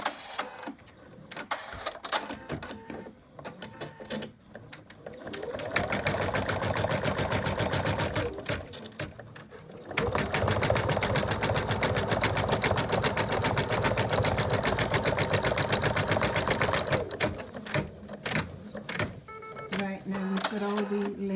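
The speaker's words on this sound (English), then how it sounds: "So we're going to stitch the placement line for the arm." An embroidery sewing machine stitches a placement line for a stuffed toy dog's arm, a loud fast mechanical chatter in long runs broken by short pauses, with some talk around it.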